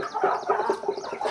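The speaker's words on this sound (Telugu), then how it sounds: "కడక్నాథ్ కోళ్ళు" Kadaknath chickens cluck in a soft, steady series of short calls, close by, with no one speaking.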